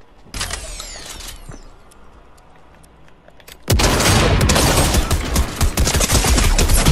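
Video game shooter gunfire, a brief burst of shots followed by a sustained, loud fusillade of rapid automatic fire and booms that fills the second half, close and dense.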